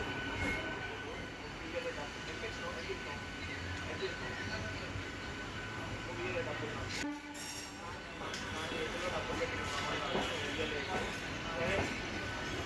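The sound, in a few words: Secunderabad–Warangal MEMU push-pull passenger train starting to move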